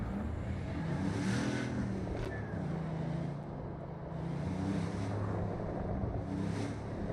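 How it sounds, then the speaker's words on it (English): Car engine in Cyberpunk 2077 rising and falling in revs while driving, a loud rumbling drone with swells of wind noise and no talk. "Let's just take a drive to Cassius."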